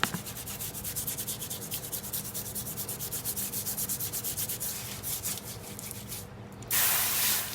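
Steel glider part being scrubbed free of rust after electrolysis, with steady rhythmic back-and-forth strokes close by that end in a short, loud hissing burst.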